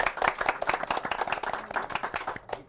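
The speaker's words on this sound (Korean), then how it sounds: "박수 부탁드리겠습니다" A small crowd applauds with brisk, overlapping hand claps that carry on steadily, then thin out and fade at the end.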